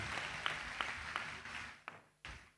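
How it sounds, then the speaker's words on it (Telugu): A congregation claps together at a Hosanna Ministries Feast of Tabernacles gathering, a dense, steady wash of hand claps that breaks off briefly near the end and then starts again. "ఒక్కసారి చప్పట్లు కొట్టి దేవుని నామాన్ని మహిమపడదాం"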